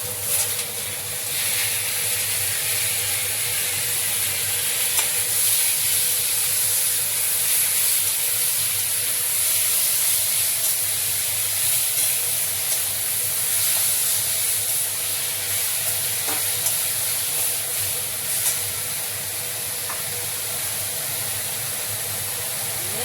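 Capsicum and onion, half-fried, sizzling steadily in a pan just after ground spice paste goes in for a jackfruit chilli dish; a loud, continuous hiss with faint crackles and no talk.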